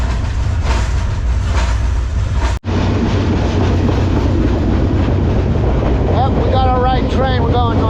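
A train heading north out of Birmingham, Alabama rumbles loudly with wind buffeting the microphone, a continuous low roar with a brief dropout, then people talk over the noise near the end.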